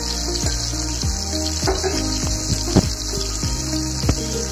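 Potatoes frying in oil left over from frying fish, a constant bright sizzle with repeated clicks and scrapes of a spatula tossing the pieces, close and without talk.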